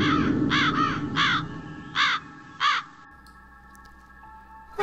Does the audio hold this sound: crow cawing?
yes